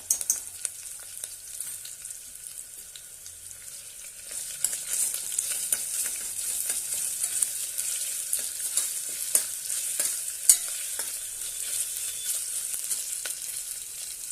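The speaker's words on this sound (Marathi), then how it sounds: "दोन हिरव्या मिर्चा कट करून घेतलेल्या आहेत ते घालूया एक चमच आलं लसणाची पेस्ट घालूया" Chopped green chilies and a spoonful of ginger-garlic paste fry in hot oil for veg pulao, a bright hissing sizzle that swells after a few seconds, with scattered spatters and stirring clicks up close.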